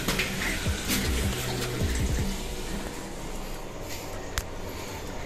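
Water rushes steadily from an opened tap in a warehouse, a continuous broad splashing flow that fills the whole stretch with no voices.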